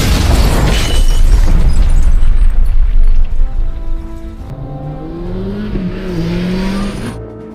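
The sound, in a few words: explosion blowing up a house in a Korean film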